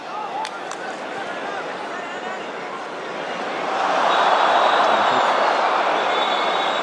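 Stadium crowd at the Vélodrome during a Marseille versus Atlético Madrid football match: a broad, distant roar of applause swells midway and holds loud, with a commentator talking over it.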